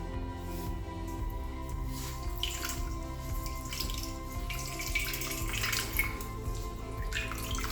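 Water squeezed out of wet egg-carton paper pulp through a cloth, a soft continuous trickling and dripping, faint and close.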